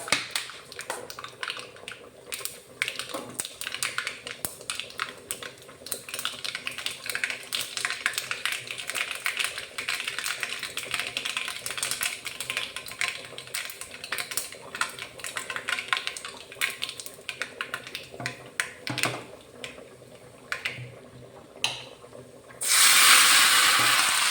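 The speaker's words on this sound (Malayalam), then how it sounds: "കടുക് താളിക്കാം കേട്ടോ" Mustard seeds splutter and crackle in hot oil while tempering for a Kerala-style lunch, a dense run of rapid pops and ticks that continues steadily for a long stretch, with a burst of louder hiss near the end.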